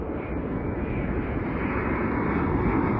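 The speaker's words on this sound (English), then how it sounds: "This is a massive 787-9 Dreamliner." Turkish Airlines Boeing 787-9 Dreamliner airliner passing close by, a loud, steady broadband engine roar that holds constant with no talk over it.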